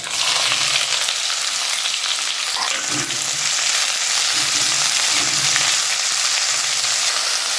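Chopped onions and curry leaves frying in a hot pan, a loud continuous sizzle with occasional soft scraping stirs underneath, no voices.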